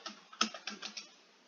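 A short command is typed on a computer keyboard, a brief run of about eight crisp, close key clicks with one louder tap, then quiet.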